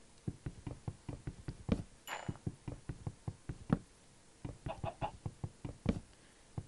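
A blocky Minecraft chicken clucks in short bursts amid a rapid series of sharp hitting knocks, with one brief higher squawk partway through, all at close range in a jungle setting.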